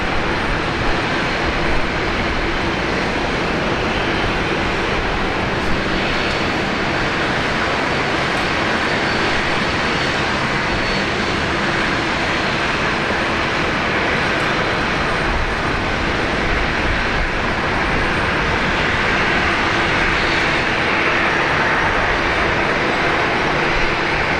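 A Philippine Airlines jet on the runway at Brisbane Airport gives a loud, continuous engine roar that holds steady for the whole stretch, with no talk.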